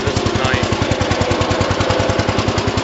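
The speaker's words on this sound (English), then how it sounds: "The motor's running pretty decent too." A 1982 8163-B tractor's carbureted engine runs steadily up close, its firing pulses knocking in a fast, even rhythm that never lets up.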